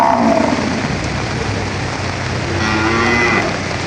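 Cattle, including breeding cows and heifers, low repeatedly and close by while heavy rain pours steadily over them and hisses loudly on surfaces.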